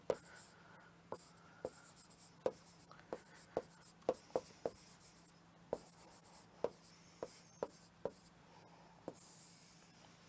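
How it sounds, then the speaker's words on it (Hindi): Pen or chalk writing by hand during a Hindi history lesson on Mughal coins, with steady scratchy strokes and sharp taps in an irregular rhythm, close and fairly quiet, no talking. "चलिए सीधा सीधा लिख देते हैं"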